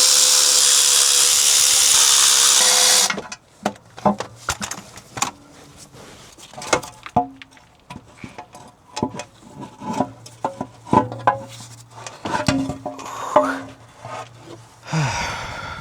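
Bolts being worked off a BMW E90 328xi oil pan with hand tools in the rain, a loud steady rain hiss at first, then scattered metallic clicks, ratcheting and clinks with faint strained breaths.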